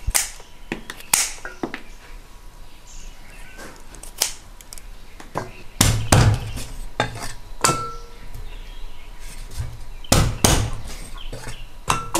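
Chicken feet chopped with a cleaver on a cutting board, heard as a series of sharp, irregular thwacks and clinks at close range, some blows heavier than others, with no talking.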